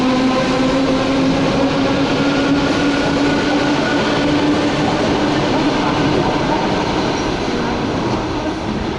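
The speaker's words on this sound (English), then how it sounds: "This train goes to Moscow, to Komsomolskaya station" A Moscow Central Circle commuter train rides along at speed, heard from inside with a steady loud rumble of wheels on rails and a faint high whine running throughout.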